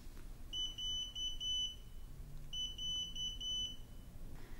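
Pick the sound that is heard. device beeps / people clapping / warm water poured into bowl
device beeps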